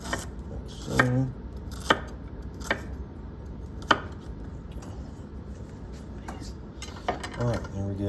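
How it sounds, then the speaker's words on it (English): A knife dices ginger thinly on a cutting board, giving a handful of sharp, close chops at irregular intervals with quiet gaps between them and no talking. "I'm just dicing up the ginger thinly, like so."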